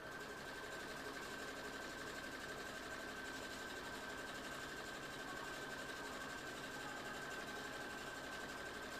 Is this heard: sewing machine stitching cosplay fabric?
yes